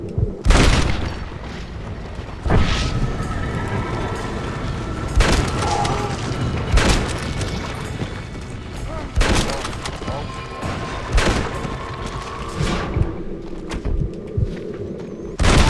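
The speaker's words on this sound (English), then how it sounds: "feel free to switch to the explosive rifle" An explosive rifle fires in Red Dead Redemption: Undead Nightmare, a video game, with heavy booming blasts and explosions every one to two seconds, loud and punchy, over a rumbling game background.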